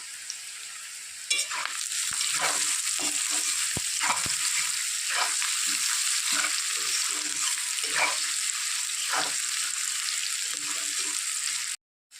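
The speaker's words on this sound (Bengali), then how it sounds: "হালকা একটু লবণ পেঁয়াজ ভাজায় দিয়ে দেবো তাহলে নরমটা ভালো হয়" Onions frying with a little salt in a pan, a loud continuous sizzle broken by repeated scraping stirs and clinks, close up, stopping abruptly just before the end.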